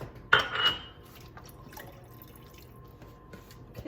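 Chicken broth poured into a pot for white chicken bean chili, a soft liquid splash near the start then a faint trickle and drips, quiet and close.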